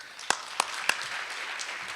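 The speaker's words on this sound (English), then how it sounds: "So a round of applause there." A few sharp claps followed by a spread of scattered audience applause at a State of the County address, moderately loud and a bit distant, fading briefly.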